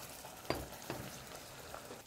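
Two beaten eggs seasoned with a pinch of salt hit hot oil left from stir-frying, giving a quiet steady sizzle with a couple of soft clatters from stirring.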